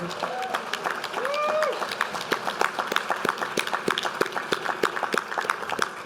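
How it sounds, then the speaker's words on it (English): Convention audience applause, sparse scattered clapping with distinct individual claps spread across six seconds, while a voice speaks briefly near the start. "We also should give a big round of applause for our staff"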